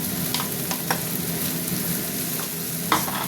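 Ginger-garlic paste sizzling in hot oil in a pan, with steady frying hiss and a few clinks of a spoon stirring against the pan, close and fairly loud with no talking.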